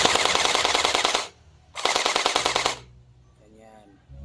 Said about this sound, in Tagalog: At ganito yung tunog niya kapag full automatic.